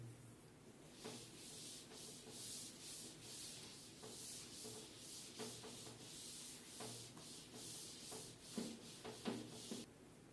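A classroom board is rubbed clean with quick, repeated wiping strokes, faint and close, with a few louder knocks near the end and nobody speaking.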